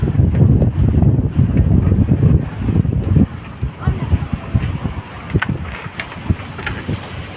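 Strong wind buffets the microphone in loud, rough gusts while riding with a helmet on, easing somewhat midway, with faint voices and a distant engine underneath.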